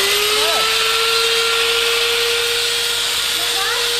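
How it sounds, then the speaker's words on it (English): A power grinder grinds rust off metal, whining steadily at a high pitch, loud and close, with slight pitch dips near the start and end. "The worst of the rust needs grinding down to the clean, bare metal underneath."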